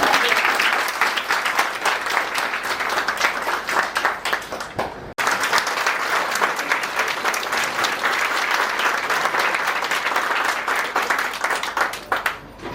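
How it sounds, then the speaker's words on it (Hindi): An audience at a retirement function claps loudly and continuously, dense applause filling the room with a brief break partway before resuming just as strongly. "यहाँ पे एक जोरदार, इतनी जोरदार ताली कि इनको भी महसूस होगा"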